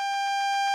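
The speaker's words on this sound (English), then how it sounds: "That alarm is the AWS self-test system." A steady electronic warning tone from the AWS self-test alarm in a train cab in the Train Sim World video game, sounding continuously and loud throughout with a stable pitched buzz.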